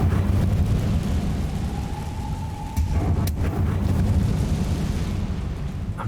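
The Incendio fire spell cast in Hogwarts Legacy, a continuous roaring, rumbling burst of flame with a sharp crackle midway, loud and close, with no talking.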